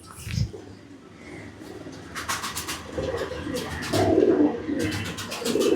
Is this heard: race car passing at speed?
no